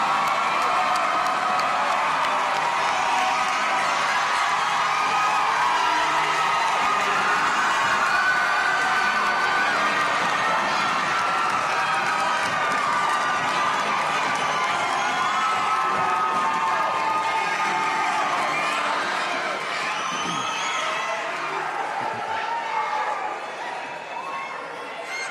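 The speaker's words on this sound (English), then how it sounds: "Give him one more round of applause." A graduation crowd at the Cleveland School of the Arts ceremony claps and cheers loudly in a sustained roar, with shouts and chatter mixed in, fading slightly toward the end.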